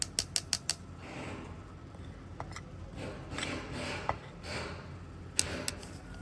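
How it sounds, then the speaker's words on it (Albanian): A grinder milling dried red peppers into fine powder gives irregular mechanical clicking and creaking, with rapid bursts of ticks at the start and near the end. "Unë do detyrohem t'i bluaj këto pjesët sipër edhe 2-3 herë të tjera, derisa të marr pjesën më të imët të tyre."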